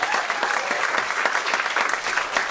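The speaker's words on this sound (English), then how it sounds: "let's have a round of applause for our filming crew" Enthusiastic clapping from an audience, dense and continuous, heard up close throughout.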